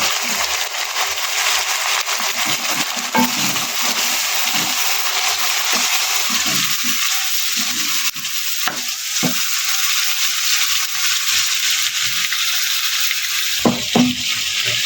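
Chopped tomatoes hit browned ginger and garlic in a hot pan, giving a steady, loud frying sizzle with a few stirring scrapes and clinks near the end.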